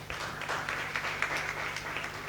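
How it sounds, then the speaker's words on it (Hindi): Congregation at a Sunday church worship service clapping hands together in thanks, a dense, steady patter of many hands filling the room, moderately loud with no pauses. "ताली बजा के प्रभु को धन्यवाद।"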